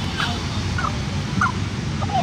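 Large, heavy farm chickens around three kilos each, several short clucking calls scattered over a steady outdoor background, fairly close.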